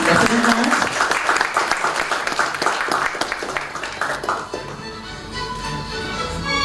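Audience applause at an office system launch and handover ceremony, a dense burst of many hands clapping that thins and fades toward the end, with some voices underneath.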